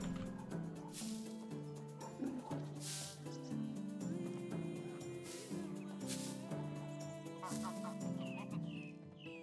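Chickens clucking in the video game Medieval Dynasty, several birds giving repeated clucks over a continuous background music track.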